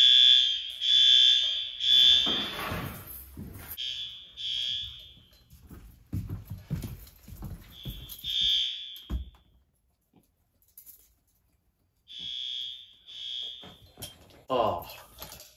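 A 1958 school fire alarm system sounds during a test: repeated bursts of loud ringing alarm tones come and go with pauses between them, and people talk in the background.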